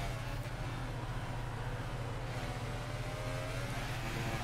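Formula 1 car engine in the F1 2018 racing game, a steady loud droning whine with layered harmonics that holds continuously throughout, with no talking over it.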